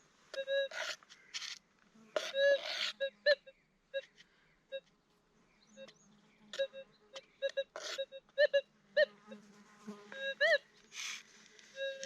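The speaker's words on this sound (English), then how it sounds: "Hear the bees buzzing?" Insects buzz in short, irregular bursts close by at a gold prospecting site, with quiet gaps between each passing drone.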